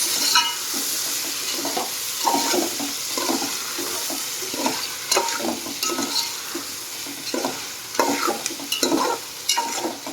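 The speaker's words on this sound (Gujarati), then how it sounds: "હવે ટમેટાને મિક્સ કરવાના આવી રીતના" Tomatoes are stirred in a cooking pan, repeated wet squelching scrapes of a spoon over a steady frying hiss, close and moderately loud, continuing for several seconds with no speech.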